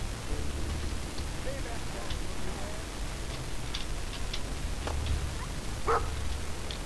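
Scattered barks and yips from a companion dog in the video game Fallout 4, fairly faint and intermittent over a low ambient rumble.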